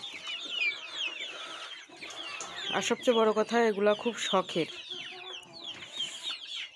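Backyard chickens cluck in a short run of repeated calls, close and fairly loud, with a person talking throughout.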